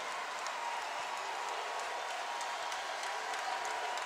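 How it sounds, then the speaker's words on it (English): A high-school gym crowd at a Purdue men's basketball exhibition against Team Canada applauds and cheers after a last-second three-pointer, a steady, fairly distant wash of clapping and crowd noise without clear individual voices. "Crowd on its feet here at Jeff High School."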